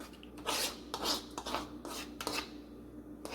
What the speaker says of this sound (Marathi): आता हे छान आपण मिक्स करून घेऊया, दही आणि वरई आणि साबुदाणा।